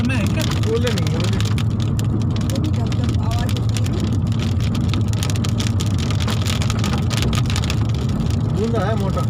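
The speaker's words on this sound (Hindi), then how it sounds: "ये मोटी मोटी बूंद गिर रही है पापा जी।" Heavy, fat raindrops pelting the roof of a car during a downpour, a dense continuous patter with sharp individual hits, heard from inside with voices talking under it.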